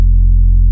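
A loud, deep house music bass line with effects plays alone as a sustained, thick low tone with buzzy harmonics, lasting under a second.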